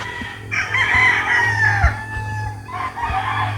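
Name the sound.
rooster crowing in the morning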